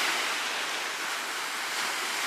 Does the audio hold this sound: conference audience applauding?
no